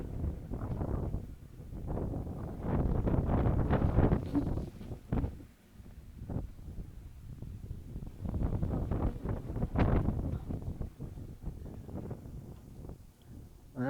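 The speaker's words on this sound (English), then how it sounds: "Very windy on this side." Low, steady wind buffets the microphone in gusts as a storm approaches, rumbling loudly and then easing off.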